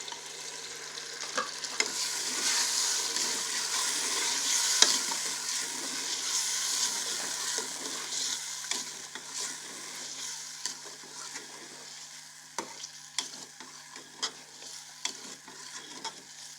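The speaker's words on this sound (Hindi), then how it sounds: "हम इसको अच्छे से यहाँ पे फ्राई करते हैं।" Aloo palak masala with tomato sizzles and fries in a pan while a spoon stirs it, giving a soft steady hiss broken by scattered scraping clicks of the spoon.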